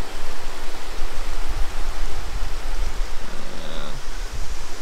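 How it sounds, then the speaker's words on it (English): Steady, broad rushing roar of water falling over Kinkaid Lake spillway, continuous and fairly loud throughout, with no voices. "checking out the waterfall."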